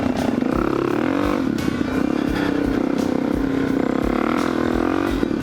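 A Kawasaki KLX470 four-stroke dirt bike rides through open desert, its engine droning steadily up close, with rising and falling throttle and rattly clatter from the terrain.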